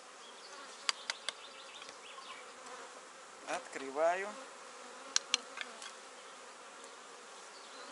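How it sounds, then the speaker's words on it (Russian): Honeybees hum in a low, steady buzz from an opened hive, with a few light taps on wooden frames and someone speaking briefly in Russian partway through. "Пчелки не волнуются."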